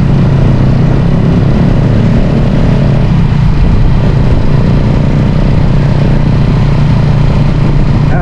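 A loud, steady engine of a Honda TMX 125 motorcycle tricycle with sidecar drones without pause, a constant low rumble running the whole time with no voices.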